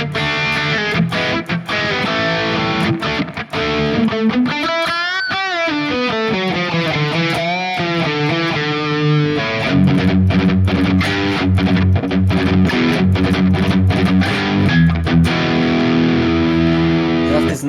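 Electric guitar played through a Sonicake Matribox 2 modeling a JCM800 amp with a tube screamer boost, giving a loud, steady overdriven tone with sustained bent notes and chords, no voices.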